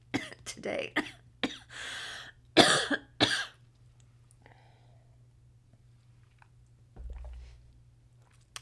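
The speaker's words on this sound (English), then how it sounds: "you could start coughing" A run of close, sharp coughs and throat clearing, several bursts in quick succession, then near silence with a faint low hum.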